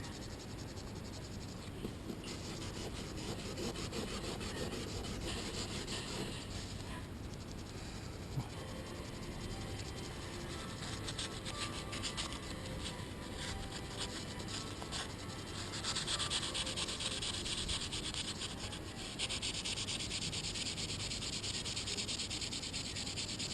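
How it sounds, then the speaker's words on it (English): Wet sandpaper rubbing over an opal in a steady, close, continuous scratchy hiss, growing somewhat brighter toward the end, with no talk. "So what I'm doing is I'll wet it, get the sandpaper,"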